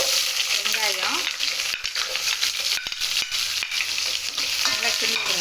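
Cloves, cinnamon, star anise, fennel seeds, bay leaf and onion fry and sizzle in hot oil for chicken biryani, with a continuous bright crackle and intermittent scraping stirs of a spoon, no talk.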